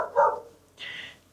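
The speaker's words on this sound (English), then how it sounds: "Dog's barking again." A dog barks twice, fairly close, with a loud first bark and a shorter, higher second bark after a brief pause, with no talking over it.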